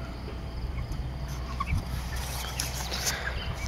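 A large flock of about 240 chickens on pasture murmur and cluck together outdoors, a continuous low flock chatter with occasional sharper calls and steady background noise.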